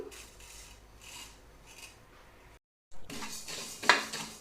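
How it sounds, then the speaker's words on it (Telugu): Coriander seeds and cumin dry-roasting in a pan over low to medium flame, a gentle rasping scrape of stirring in rhythmic strokes, close and quiet, broken by a brief silence before a louder rattling scrape. "మంటను లో టు మీడియం ఫ్లేమ్లో పెట్టుకొని ఇలా దోరగా వేయించుకోవాలి మాడిపోకుండా"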